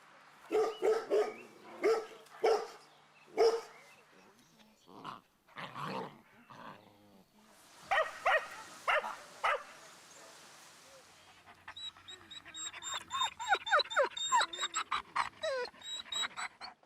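A frightened dog barks repeatedly at close range, then lets out a run of high, rapid whimpers and yelps toward the end.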